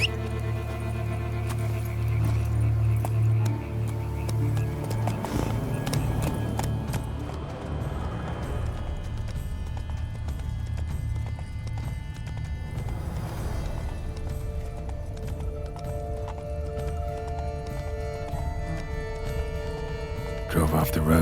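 Steady clip-clop of horse hooves at a gallop in the video game The Witcher 3 runs throughout, mid-distance, over a low ambient music bed with a voice speaking at times.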